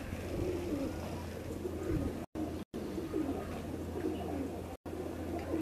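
Pigeons coo on a rooftop in Kasur, their soft, repeated low coos rolling on steadily over a quiet background hum, with no talking.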